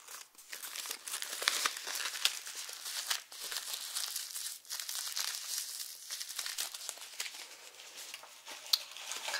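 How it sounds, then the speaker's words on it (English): A small bag of plastic and styrofoam packing from a Wii U box is crinkled and crushed up close, with busy, uneven rustling and crackling bursts that continue throughout at a soft level, with no voices. "in this little bag, this is like some weird combination of plastic and styrofoam"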